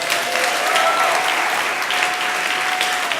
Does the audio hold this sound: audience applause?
yes